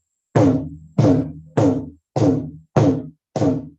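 Six evenly spaced bass strokes on the left leather head of a mridangam, a South Indian cylindrical drum. Each is a close, deep booming thud that decays quickly, with clean silence between them.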